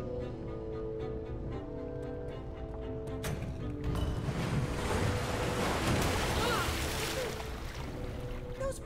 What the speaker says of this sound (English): Pressure plates release waterfalls upstairs.